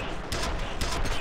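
Gunfire in the first-person shooter FEAR comes in two short, loud bursts of rapid shots close by, with a brief pause between them.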